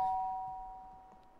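In The Sims 3, a doorbell rings once: a clean electronic chime tone that rings out and slowly fades, heard alone and fairly soft.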